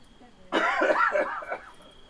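A short bout of coughing bursts out loud and close after a quiet start, lasting about a second before trailing off, in a Bengali village short film scene about a cough lasting over two weeks.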